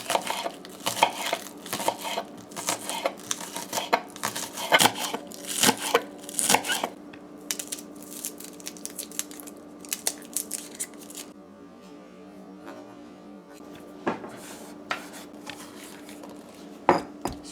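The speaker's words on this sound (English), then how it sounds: "So our scallions as well we're cutting up." Scallions being chopped with a knife on a cutting board for eggplant and eddo curry, a steady run of close, crisp chops that thins into scattered taps and a softer scraping pause.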